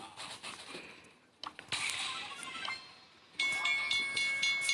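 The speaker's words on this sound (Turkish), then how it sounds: "Tren geliyor." A train rumbles and hisses past in the video game Brawl Stars, with metallic screeching and tonal whistling in the last part, sounding synthetic.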